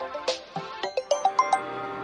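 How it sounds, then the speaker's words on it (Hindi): A mobile phone rings with a short melodic tone sequence, a string of rising and falling beeps repeated in quick succession, fairly clear and close. "बीच बीच में ये फोन आते रहते हैं।"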